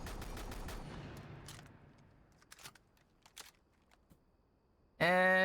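Shotgun hip-fire blasts from Rainbow Six Siege: a quick cluster of sharp reports that fades into a decaying tail, a few fainter shots afterward, then an abrupt loud tonal burst at the end.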